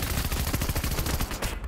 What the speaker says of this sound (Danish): Hvem fanden bliver jeg skudt af?